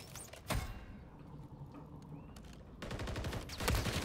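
Faint gunfire from the game Call of Duty: Modern Warfare III: a short burst of shots early, then a louder rattle near the end over a quiet, muffled background.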